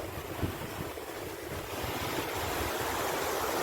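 Sea waves break on a beach in a steady, dense roar of surf mixed with wind buffeting the microphone, growing slightly louder toward the end, with no voices.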